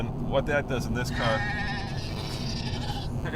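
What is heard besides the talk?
sheep bleat sound on a phone, ringtone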